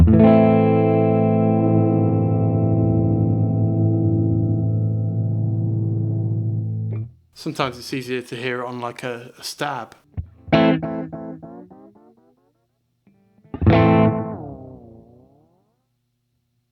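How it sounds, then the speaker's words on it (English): An electric guitar runs through a Boss DM-2w analog delay as the repeat time shifts mid-playing: a sustained chord warps in pitch, then sharp stabs trail off into wobbling, pitch-bending echoes, with someone talking over part of it. "if you change the repeat time while you're playing, you're going to get all sorts of kind of weird, cool sounds"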